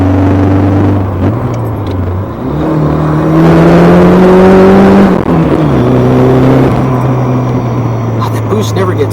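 A 1987-88 Ford Thunderbird Turbo Coupe with a T3 turbocharger pulls hard under boost, its loud engine note climbing through the gears with a whirring whine. Someone talks over the engine.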